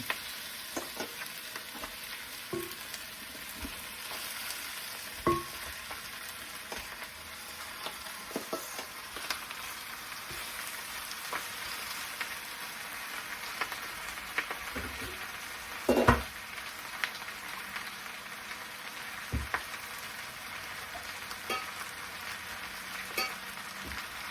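Pork leg (pata) frying in a pan, a steady close sizzle with occasional sharp clinks and scrapes of stirring, no voices.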